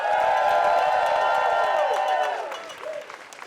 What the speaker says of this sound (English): Let's give a round of applause for all of us here.